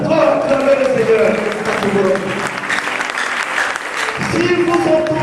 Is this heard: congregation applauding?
yes